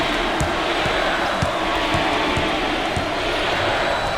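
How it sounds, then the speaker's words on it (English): Basketball crowd in the NCAA Basketball 10 video game roars and chants in a dense, steady wall of arena noise, with faint regular ball bounces thudding underneath. "The crowd starting to chant."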